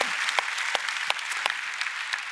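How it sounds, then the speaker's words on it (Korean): A church congregation at a Korean Sunday worship service applauds together, a steady wash of many hands with a few sharper claps standing out, moderately loud and with no voices over it. "우리 하나님께 영광의 박수를 올려드립니다"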